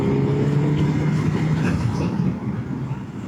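A 2025 Suzuki GSX-S1000GX four-cylinder motorcycle accelerating, its loud, steady engine drone rising in power without a break, with no talk over it.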